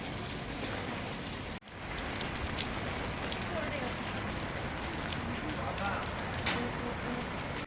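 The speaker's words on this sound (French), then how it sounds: "La pluie est vraiment très forte aujourd'hui" Heavy rain pours steadily outdoors beside a swollen river in Guangyuan, Sichuan, a dense continuous hiss with a brief dropout near the start.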